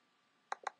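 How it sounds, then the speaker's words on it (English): Two quick mouse clicks sound close together, sharp and near in a quiet room, while installing MagicJack VoIP software on a computer. "Double click."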